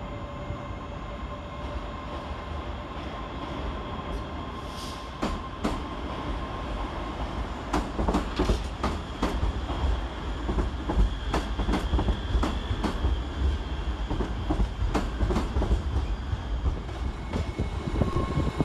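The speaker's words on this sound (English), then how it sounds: "Starting on the far side is 385038, working the 1506 ScotRail service to Gourock." ScotRail class 385 electric train 385038 pulling out of Glasgow Central station, a steady rumble building into rhythmic wheel clatter over rail joints, with faint squeals, moderately distant and without talk.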